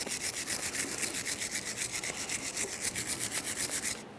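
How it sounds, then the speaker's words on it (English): A wire brush scrubs a Toyota Sienna caliper bracket in rapid, even back-and-forth strokes, a dense rhythmic rasping that runs steadily for about four seconds before stopping abruptly. "To clean these, you can just use a wire brush."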